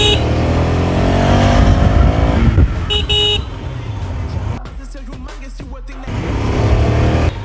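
A 2022 KTM Duke 250 motorcycle rides through road traffic, its engine a steady rumble under loud passing vehicles, with two short car horn toots in the middle and rushing wind noise.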